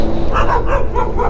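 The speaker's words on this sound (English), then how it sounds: "Uncontrolled dog." A loose, uncontrolled dog barks close by in a quick run of loud, yippy barks with slight whimpering tones, no talk over it.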